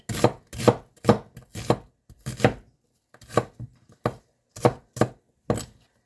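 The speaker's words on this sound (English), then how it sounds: "I do know how to chop. It's like this, right? Slice, slice, slice, and then in." A knife chops food on a cutting board in about a dozen crisp, close strokes, some in quick pairs, separated by short silent gaps and uneven pauses.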